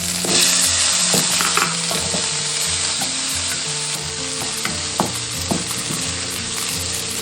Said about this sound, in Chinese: 然后将五花肉炒香，把这个五花肉的一部分油脂给它炒出来。